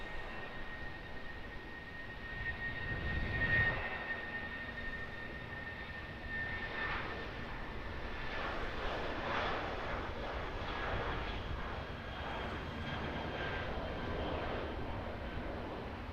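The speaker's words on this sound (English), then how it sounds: "Jetstar Airbus A320 departing 23 left." A Jetstar Airbus A320 jet departs runway 23 left at Auckland Airport, with a sustained engine roar heard from a distance and a high turbine whine that swells early on and then holds steady as it moves away.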